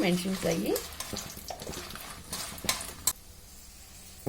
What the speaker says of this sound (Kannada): ಮೆಣಸಿನ್ಕಾಯಿ ಹುರ್ಕೊಳ್ಳೋದು ಗಮ್ ಅಂತ ಘಮ ಬರುತ್ತೆ